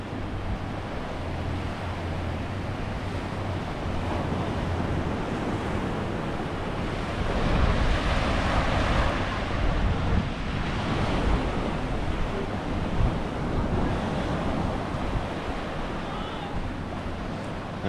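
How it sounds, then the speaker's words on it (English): Ocean waves at Treasure Beach, Jamaica, at sunset wash in as a steady, broad surf roar with wind buffeting the microphone, swelling slightly midway and staying loud and continuous throughout. "look at the ocean, look at the water"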